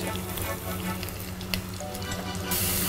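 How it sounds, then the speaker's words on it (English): Onions and garlic sautéing in a pan, a dense close sizzle with light crackles and a brief utensil knock, heard steadily throughout without voices. "I'm going to let that saute a little bit until the onions turn a bit translucent."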